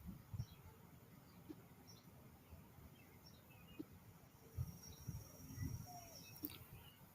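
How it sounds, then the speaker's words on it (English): Faint birdsong drifts in from outdoors, with scattered soft chirps and thin whistles over a quiet hiss and a few low bumps nearby. "Love hearing the birds in the background."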